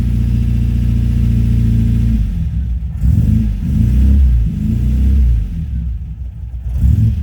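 A 1977 MGB GT rubber-bumper engine runs with a steady low drone that suddenly rises into a few throaty revs, rising and falling close to the microphone with no talking.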